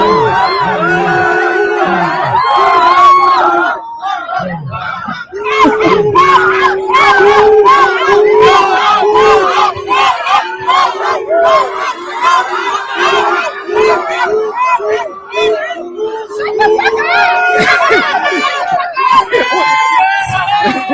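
A large crowd at a political event shouts and jeers at Ilhan Omar, a loud, sustained roar of many overlapping voices with rising yells and a brief lull partway through, continuing to the end.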